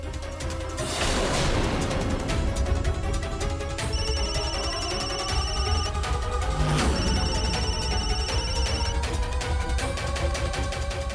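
Telephone ringtone in a Hindi TV drama household scene, two bursts of a steady electronic ring repeating over a loud, busy music score with crashing dramatic hits.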